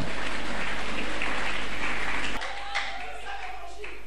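Church congregation applauding, a dense, steady wash of clapping that cuts off sharply partway through, leaving quieter room sound and a faint tone.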